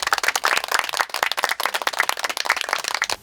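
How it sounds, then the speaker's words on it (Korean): An audience claps to welcome a poet and a film critic at an outdoor literary talk, the applause dense and steady with sharp overlapping hand claps throughout before tapering at the end. "박수 부탁드립니다."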